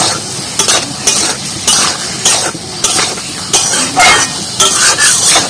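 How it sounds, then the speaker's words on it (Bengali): Fried taro pieces tumbled into a pan of spices, stirred with a metal spatula in steady scraping strokes over a constant close sizzle of hot oil, no voices. "এবার ভেজে রাখা কচুগুলো দিয়ে দিচ্ছি মশলার মধ্যে।"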